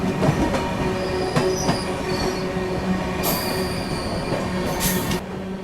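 The Jabalpur–Hazrat Nizamuddin Shridham Superfast Express rushes past on the adjacent track, heard from inside a moving train as a loud continuous roar with clattering wheels and bright squealing bursts, no voices.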